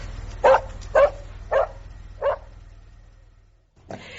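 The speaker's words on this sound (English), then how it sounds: "I have a dog." A dog barks four times at an even pace, close and clear, in a radio drama scene, followed by a brief pause and the start of a voice.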